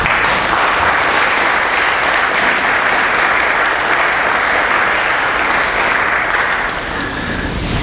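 Audience applause at an annual meeting address, honouring Marilyn Benoit: a dense, steady wash of many hands clapping, loud and sustained throughout, easing slightly near the end.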